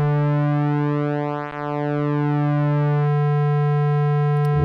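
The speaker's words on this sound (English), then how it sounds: "we can hear the square wave pulse width modulating" Korg Monologue synth holding a sustained square wave whose pulse width is swept by an LFO, giving a bright buzzy tone with a slow phasing sweep that shifts timbre partway through, loud and alone.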